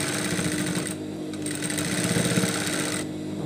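A sewing machine fitted with a binding funnel stitches a mask strap, a dense, steady mechanical whirring with rapid needle chatter running throughout, briefly easing near the middle before resuming at full speed.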